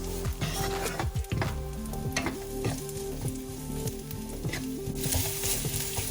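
Onions fry in a pan with a steady, close sizzle, punctuated by clinks and scrapes of a utensil stirring against the pan, with a brighter hiss toward the end.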